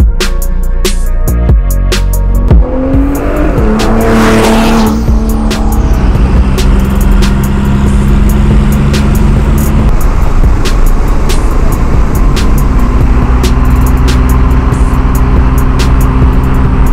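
A Porsche 911 Turbo S Cabriolet 997.2 with an aftermarket exhaust, recorded from inside with the top down: the engine revs loudly and climbs through gears, then holds a sustained, close, roaring drone with wind rush.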